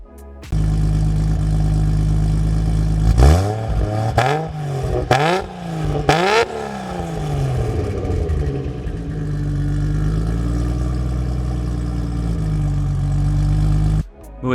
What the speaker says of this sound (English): But let's listen to this exhaust.